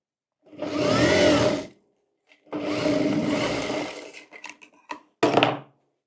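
An electric sewing machine runs in bursts while stitching a cotton dhoti, two long whirring runs followed by short stuttering stops and a final brief burst, close and fairly loud.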